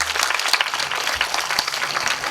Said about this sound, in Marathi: जोरदार टाळी वाजवा